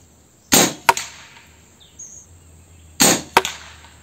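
Two air rifle shots firing REX slug pellets through a FIORA barrel, each a sharp crack followed a moment later by a snapping impact, the pairs about two and a half seconds apart in a quiet setting.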